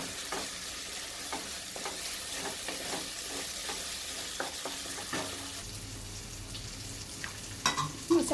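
Masala for dry spicy mutton roasting in a pan, with a steady sizzle and repeated scraping stirs of a spoon at a close, moderate level throughout.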